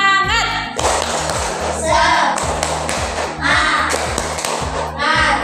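A classroom group performs a rhythmic clapping ice-breaker chant, with taps and claps in short patterned bursts alongside a speaking voice and children chanting, over a steady background music beat.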